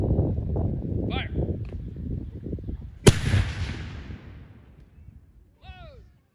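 Historical muzzle-loading cannon fired at a museum demonstration: one sharp, loud blast with a long rumbling decay, preceded by outdoor crowd murmur and a horse whinny, with another whinny near the end.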